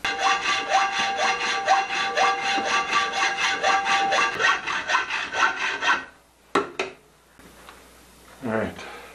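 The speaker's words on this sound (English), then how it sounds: "Getting ready to cut the support rod that's going to stiffen up this brake." Hand saw cutting a metal support rod for a bending brake, a fast even series of rasping strokes up close for about six seconds, followed by a few clanks and handling noises.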